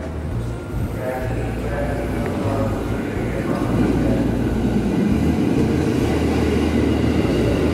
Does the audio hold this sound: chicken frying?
no